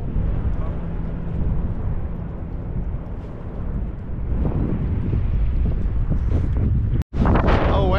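Strong wind buffeting the microphone on a boys' fishing trip near East London, Eastern Cape, a steady loud low roar throughout, with a brief dropout near the end and voices talking over it.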